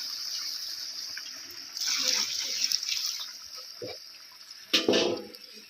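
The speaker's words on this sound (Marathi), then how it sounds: "हे जे गरम पाणी केलेलं आहे ना ते ह्याच्यामध्ये आपण वतणार आहे" Hot water pours and splashes into a pot of cooking mutton, building into a louder gush midway with a sharp splash near the end.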